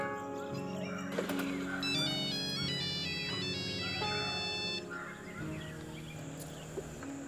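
A phone ringtone for an incoming call plays a repeating electronic melody, fairly faint, over other background sounds.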